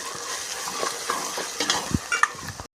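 Red chili powder, turmeric and garam masala get stirred into hot oil in a pot, a faint steady sizzle broken by soft scraping strokes of the spoon, with no talking.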